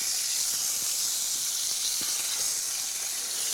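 Garlic halves sizzle flesh side down on a barbecue grill plate, a steady, bright, close hiss that holds evenly throughout with faint crackles and no talking.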